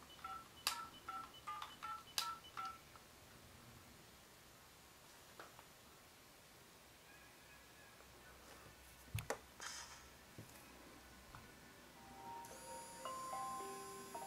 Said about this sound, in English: as I receive a phone call on the wristband, it will play the ringtone that I had set on my cell phone